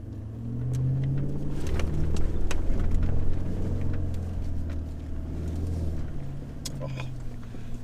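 A 4x4 pulls off a beach in first gear, high range, its engine giving a low, steady rumble that swells and eases with a few clicks and knocks over the top, fairly close and continuous.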